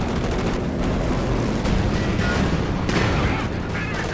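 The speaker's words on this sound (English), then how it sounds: "Here comes the P-47 strafing run." A P-47 strafing run in Company of Heroes 2 produces a dense burst of rapid gunfire and booming impacts, loud and continuous across the whole stretch with a busy battlefield rumble underneath.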